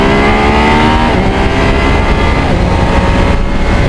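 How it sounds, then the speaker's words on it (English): A 2020 Yamaha MT-09 motorcycle accelerates hard through the gears with a quick shifter on salty winter roads, its loud, close engine note climbing and shifting continuously with no talk. "I just never get tired of going through the gears."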